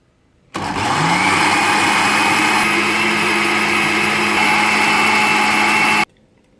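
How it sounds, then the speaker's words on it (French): A kitchen blender whirs steadily at full power, loud and close, as it purees bananas, raspberries and vegan coconut-milk vanilla ice cream, starting abruptly and cutting off after about five and a half seconds. "je vais tout mettre dans le mixeur et c'est parti"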